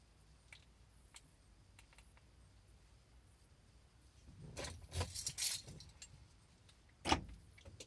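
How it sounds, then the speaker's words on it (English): Quiet mechanical clicks and clunks of Honda Element door locks cycling, a cluster of actuator thunks mid-clip and a sharper one near the end, with faint jingling between. "My car door's now unlock and lock at will."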